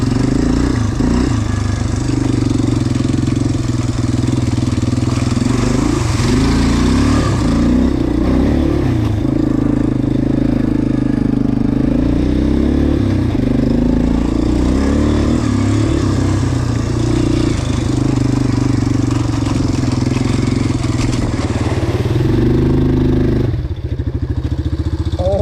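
A quad ATV engine revving hard as its wheels spin in deep mud at Whiskey Creek, a loud, continuous throaty drone rising and falling with throttle over a long stretch.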